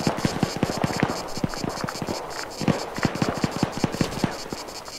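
Flashbang grenades and gunfire during a tactical shooter breach, a rapid string of sharp cracks and pops in close succession over a steady background hum, fairly quiet and continuous for several seconds.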